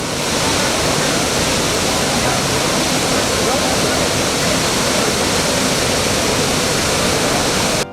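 Iguazu waterfall in Brazil, a loud, steady roar of falling water filling the scene from a crowded viewpoint, constant and unbroken throughout.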